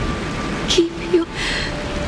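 Rain falls in the video game Honkai: Star Rail as a steady, close hiss, with a couple of brief tonal chimes over it.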